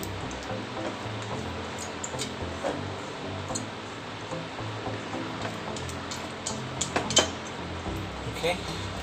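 A spoon stirring finely chopped garlic into canned tuna in a bowl, soft scraping with light clinks and taps against the bowl, irregular and fairly quiet.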